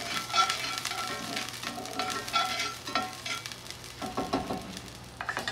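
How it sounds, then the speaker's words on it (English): Garlic fries in oil in a skillet for a tofu and vegetable stir fry, giving a soft, steady sizzle with scraping stirs and utensil clinks, close and moderately loud with no talking. "Now I'm going to go in with that garlic"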